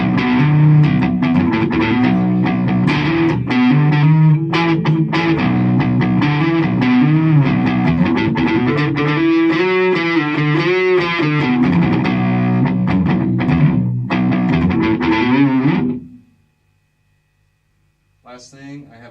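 Electric guitar played through a Laney LX65R amp on its crunch channel, a dense driven strumming and riffing that runs loud for about sixteen seconds before cutting off, with a short burst returning at the end.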